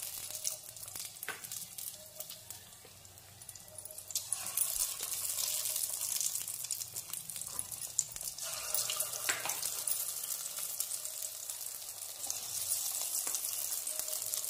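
Carrot and lentil pakoras frying in hot oil over a low flame, a steady broadband sizzle and crackle with faint clinks, continuous and close throughout.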